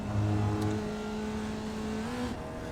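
A Formula Vee race car engine held at full throttle in iRacing at Virginia International Raceway, droning steadily with a sustained tone that rises slowly in pitch as the car accelerates.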